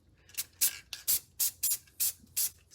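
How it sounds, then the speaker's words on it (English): Short bursts of sealant spray hiss inside a tumbler, about eight quick, close puffs in an uneven rhythm with brief silences between. "I'm just about to spray this inside"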